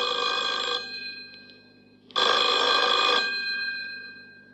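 An old-style telephone bell rings in two loud bursts separated by a short pause, close and alone.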